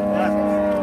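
A cow moos at a cattle fair, one long, loud, close low call that fills the moment with a steady droning tone.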